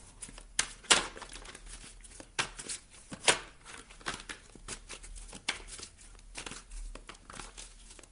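Tarot cards are drawn and laid down close by, a string of dry papery crinkles, slides and light taps at an uneven pace, quiet and without any talk.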